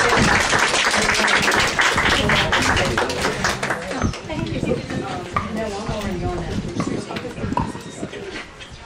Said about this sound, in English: So let's give a rousing round of applause to them.